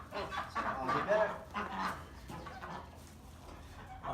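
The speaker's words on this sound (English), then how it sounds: "these are Peking ducks, kind of like I guess you see on the Aflac commercial" Peking ducks calling at close range, a few hoarse quacking honks bunched in the first two seconds, then quieter softer calls fading.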